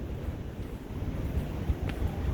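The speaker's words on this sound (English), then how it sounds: "it's a little bit windy out here" Strong wind buffets the microphone on a boat's observation deck near misty falls off Canada, a steady, loud rumbling roar with gusty swells and no other clear sounds.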